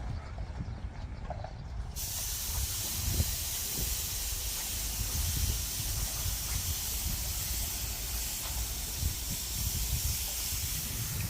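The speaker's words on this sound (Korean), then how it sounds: "바람 부네 비 올라고 그러나" Wind gusting outdoors ahead of possible rain, a steady broadband rush with low rumbling buffets that holds for the whole stretch and grows fuller after the opening seconds.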